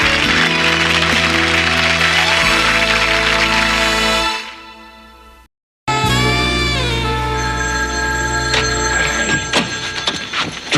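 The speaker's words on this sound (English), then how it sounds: "come on, answer the phone." A telephone rings in a sitcom home, a loud, steady bell tone that holds for about four seconds, cuts to brief silence, then returns with a bright ringing tone under music-like sound, with no talk.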